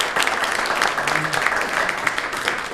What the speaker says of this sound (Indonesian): Tepuk tangan untuk beliau ya.